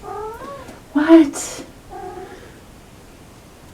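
A cat gives several loud, drawn-out meows and yowls in a row, heard close up, with a person speaking briefly between the cries.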